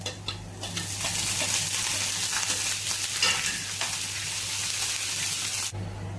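Dried red chillies and curry leaves crackle in hot oil with chopped shallots for yam erissery, a lively close sizzle with stirring scrapes that cuts off shortly before the end.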